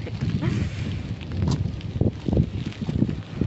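Strong typhoon wind from Typhoon Saola gusting against the microphone in uneven rumbling bursts, loud and close, with faint background noise.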